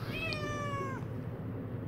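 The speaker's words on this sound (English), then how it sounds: "my cat is probably saying it too" A house cat gives a single drawn-out meow, clear and fairly close, followed by quiet room tone.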